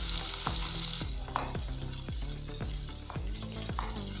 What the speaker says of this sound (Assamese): এতিয়া ভালদৰে মাছখিনি ভাজি লৈছোঁ।